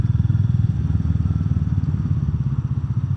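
A Royal Enfield Meteor 350 single-cylinder engine idles through its exhaust, a loud, close, steady low thumping pulse with a slight uneven beat and no talk.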